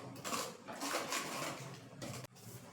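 A spoon stirs Kashmiri chili powder into raw mango chutney in a pot, making repeated scraping and clinking sounds against the metal, fairly close but soft, with one sharp knock near the end.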